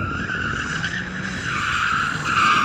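A BMW M3 in 2-wheel drive mode spins its rear tyres to warm them, producing a sustained, loud tyre squeal that wavers in pitch over a low engine rumble throughout.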